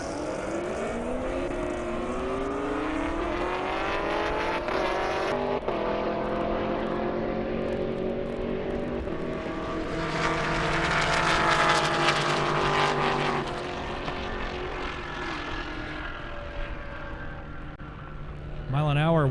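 An 09 Corvette and a Camaro drag racing down an airstrip at the Indy Airstrip Attack event, engines revving and climbing through gears in long rising sweeps, then fading, with an announcer talking over the roar.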